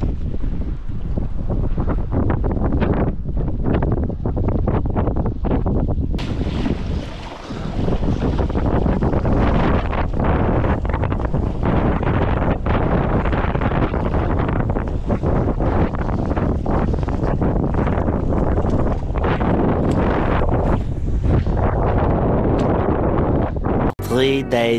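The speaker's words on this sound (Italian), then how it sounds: "è impossibile pescare con questo vento. La tramontana purtroppo non aiuta nessuno" Strong tramontana wind buffets the microphone during a fishing competition at sea, a loud, continuous roar with gusts, water sloshing and boat noise, lasting throughout with one brief dip near the middle.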